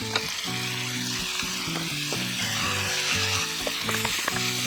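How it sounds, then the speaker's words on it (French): Octopus suckers sauté briefly in very hot olive oil in a pan, giving a steady, loud, close sizzle with a few sharp crackles and no voices. "on va mettre dans une poêle bien chaude de l'huile d'olive dans laquelle on va faire revenir les succions"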